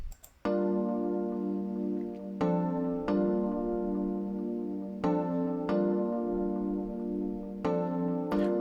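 Sustained electric-keys chords from the Hybrid Keys Palladium preset play a soulful R&B progression, each chord struck and held for a second or two before the next, rich and clear with no voices.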